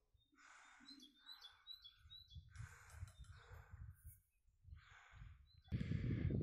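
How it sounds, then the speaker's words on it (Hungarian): Small birds chirp in Hungary, with repeated short high tweets and calls close by over a low rumbling background, ending in a louder burst of noise. "Na, jó kis magyar csicsorgás volt."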